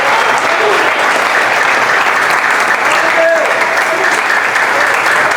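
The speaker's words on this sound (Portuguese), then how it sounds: "Pode aplaudir bem forte o Senhor." A church congregation applauds loudly for the Lord during a sermon, a thick, continuous roar of clapping that stays at full strength from start to finish.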